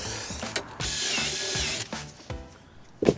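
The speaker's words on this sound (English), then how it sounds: "You got the drill out?" A power drill whirs in short bursts with ratcheting clicks between them, close by, no talking, working on a drop link on a 2002-2008 Ford Fiesta's suspension.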